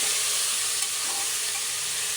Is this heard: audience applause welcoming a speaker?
no